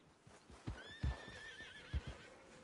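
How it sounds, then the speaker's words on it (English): Horses whinny in a Red Dead Redemption 2 game scene, one long wavering neigh rising over a few soft thumping hoof clops, moderately close and alone without talk. "Damn horses!"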